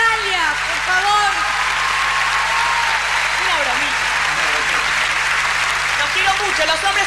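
A large concert crowd at Luna Park applauds, with loud, dense clapping and cheering and voices audible within the roar.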